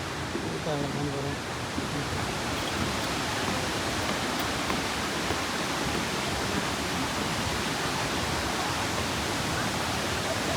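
Bushkill Falls and Bushkill Creek in Pennsylvania give a continuous, loud rushing roar of falling and flowing water that stays steady and dense from start to finish.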